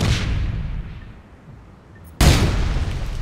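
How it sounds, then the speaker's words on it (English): A heavy explosion in the shooter game APB Reloaded bursts in loud and sudden partway through, following a rumbling, fading blast at the very start. No voices are heard. "Did you just explode yourself as well?"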